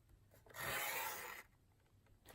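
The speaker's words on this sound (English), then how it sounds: "Now at 2 inches, you're going to trim just to the center scored line." A paper trimmer blade sliding through cardstock in one steady scraping pass lasting just under a second, close and clear over a quiet room, with no talking.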